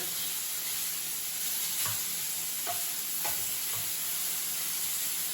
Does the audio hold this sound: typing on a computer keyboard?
no